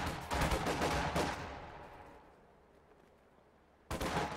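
Gunfire in a World War II real-time strategy game: a loud burst of rapid shots that fades into a quiet tail, then another sharp burst at the end, with no talking.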